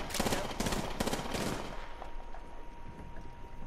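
Rapid bursts of automatic gunfire in the Apex Legends video game, loud and dense at first, then thinning out into scattered pops over a steady background.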